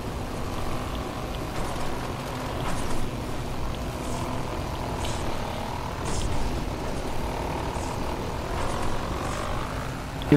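A repair helicopter in the off-road racing video game Baja: Edge of Control gives a steady, droning rotor and engine hum that holds at a constant level throughout, with no talking.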